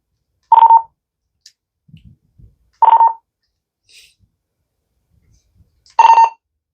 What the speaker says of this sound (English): the reason why you hear that beep at the very end is because I enabled the secure TX